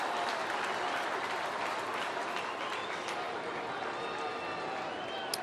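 A large baseball crowd of over 33,000 at Busch Stadium roaring and applauding, a dense, steady wash of cheering and clapping at a distance, with a voice speaking over it.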